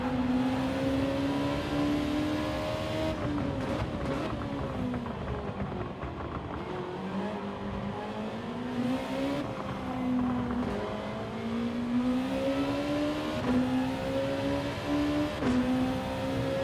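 A race car in Gran Turismo 7 at racing speed, its engine note climbing steadily then dropping at each gear change in a repeating pattern, with tire and road noise underneath, loud and continuous.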